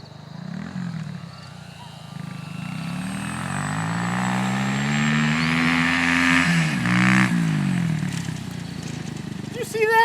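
A dirt bike races alongside a Dynam BF-110 1500mm RC plane: a steady, loud motor whine rises and falls in pitch for about ten seconds, swelling as it passes close by, with a faint voice briefly heard.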